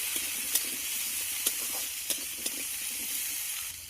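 Potato and pumpkin pieces frying with turmeric powder sizzle steadily in a pan, a close, constant hiss with a few sharp scrapes and taps as the vegetables are stirred.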